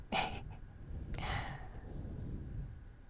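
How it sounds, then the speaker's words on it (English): Small collar bells give a brief faint jingle, then a brighter ringing chime that lingers and fades against a quiet background. "I also like the little bells."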